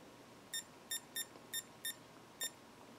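Six short, high electronic beeps in an uneven pattern from an Avon Tech portable weather station alarm clock, model F3730621, clear over a quiet room hum with no talking.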